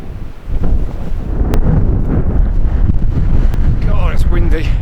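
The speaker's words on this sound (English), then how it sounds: "God, it's windy." Strong gusts roar and buffet the microphone on an exposed coastal clifftop in the Scottish Highlands. The rumble is loud and continuous, with a voice breaking through partway.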